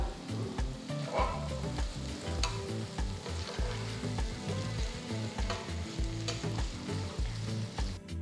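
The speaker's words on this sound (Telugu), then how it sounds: "ఇప్పుడు మొత్తం ఒక్కసారి బాగా మిక్స్ చేసేసుకోవాలి" Egg pieces with garlic, chilli and masala frying in oil, a steady, quiet sizzle broken by frequent scraping stirs, with no one talking.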